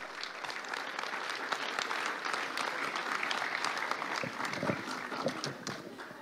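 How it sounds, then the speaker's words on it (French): An audience at the closing ceremony of the French Chess Championship in Alpe d'Huez, 2024, applauds in a sustained dense burst of many hands, steady for over six seconds with no clear voices. "donc on peut l'applaudir"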